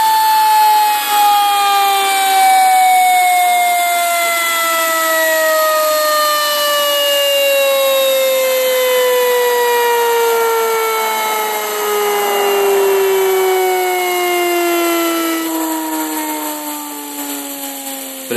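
A micro Tesla turbine spins down after its air supply is shut off, a loud close high whine sliding steadily lower in pitch over about eighteen seconds, with rough bearing noise underneath.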